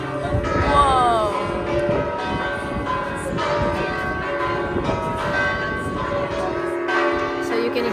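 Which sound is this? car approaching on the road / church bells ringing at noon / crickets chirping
church bells ringing at noon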